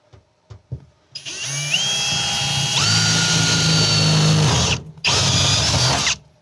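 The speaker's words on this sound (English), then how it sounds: "now I'm going to drill into the side of this." A few faint clicks, then a power drill whines up loudly and grinds steadily into the side of a wooden post while installing a shade sail, stops briefly, and spins again.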